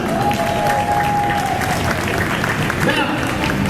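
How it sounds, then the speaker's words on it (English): Applause from an audience at a traditional ball game demonstration on Waikiki Beach Walk, Hawaii, a steady dense wash of clapping throughout with a faint tone and some voices mixed in. "Round of applause for that one."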